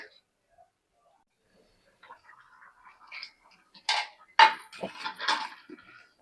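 Lid set down on a cooking pot, a few sharp metallic clatters and knocks near the end after quiet stirring sounds, with a voice speaking.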